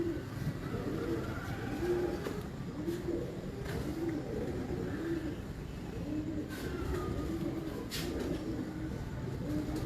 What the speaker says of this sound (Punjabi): ਲਓ ਜੀ ਦੋਸਤੋ ਦੇਖੋ ਕਬੂਤਰ